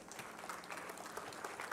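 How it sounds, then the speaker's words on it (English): An award-ceremony crowd at a tech event gives a faint, distant round of applause, a continuous soft patter of many hands with no voices over it. "Ladies and gentlemen, big round of applause."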